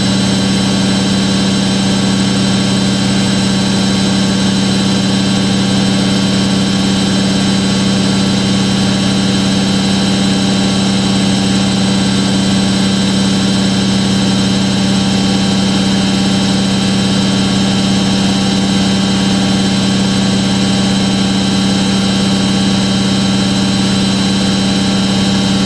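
Hoover A3060 Electronic 1100 washing machine, almost 47 years old, running a wash with a steady, unchanging motor hum and strong low drone, continuous and close throughout.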